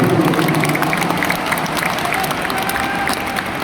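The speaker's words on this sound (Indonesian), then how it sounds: "Tepuk tangan buat semua yang hadir di sini." A large rally crowd at Jakarta International Stadium applauds and cheers during a presidential campaign gathering, a broad, sustained wash of clapping and crowd noise with voices underneath.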